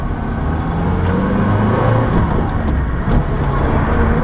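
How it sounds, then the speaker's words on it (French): A Peugeot car drives along, with a steady interior road rumble and engine drone heard close and continuous, and a few faint higher rattles. "Voilà comment voyager en France au volant d'une jolie Peugeot."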